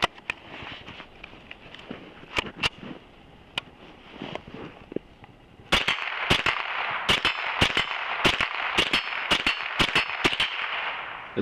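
A SIG 522 rifle fires outdoors in winter. A few scattered sharp cracks come first, then a quicker series of about ten loud, close shots empties the ten-round magazine.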